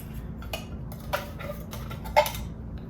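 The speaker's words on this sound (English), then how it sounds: "This is the Toaks 750 milliliter pot." A Toaks 750 ml titanium cooking pot handled close up, producing a few light metallic clinks and taps over a quiet background, the loudest knock near the end.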